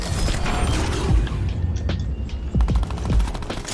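Bursts of gunfire in the Fortnite video game, rapid clattering shots and a few heavier booms in quick clusters, fairly loud and close with mechanical rattles between them, no talking.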